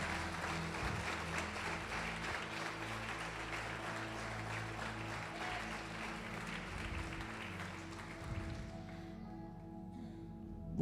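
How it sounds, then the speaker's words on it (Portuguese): A church congregation applauding at a preacher's prompt, a sustained wash of clapping with a steady murmur and hum underneath that fades out toward the end. "Pode aplaudir o Senhor e glorificar."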